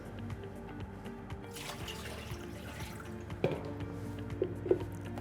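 Water poured in a bakery for bread dough, heard as faint trickling and dripping with a few small splashes near the end under quiet room noise.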